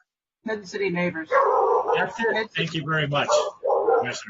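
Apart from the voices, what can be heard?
dog barking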